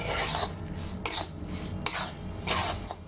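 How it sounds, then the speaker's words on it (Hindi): A spoon or spatula scrapes and rasps through warm wheat flour and jaggery in an iron kadhai, in a few repeated loud strokes close by. "मैं कढ़ाई को नीचे उतार लेती हूँ और इसे अच्छी तरह से मिक्स कर लूंगी"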